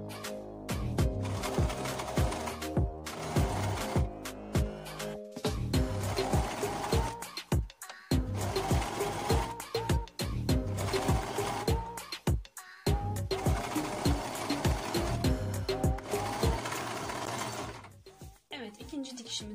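Sewing machine stitching bias binding, a steady close mechanical whirr and rapid needle clatter running in long bursts with brief stops between them, with some talk mixed in.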